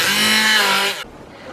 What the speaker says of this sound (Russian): Яблоки измельчаю блендером.